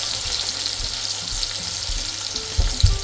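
Pieces of goat meat go into a hot pot for Cameroonian goat kondrè, raising a steady close sizzle with a few heavier thuds near the end.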